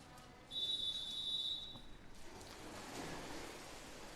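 Referee's whistle at a girls varsity swim meet, one sharp sustained blast lasting about a second and a half, loud over the echoing hiss of the indoor pool hall.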